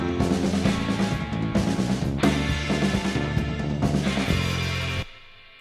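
A mixed band track of bass guitar and drums played back together, steady and full with repeated drum hits over a low bass line, stopping abruptly near the end and leaving a faint decaying tail.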